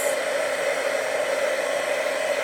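A heat gun melts embossing powder for heat embossing, giving a steady, loud, close blowing whir that holds unchanged throughout with no voices.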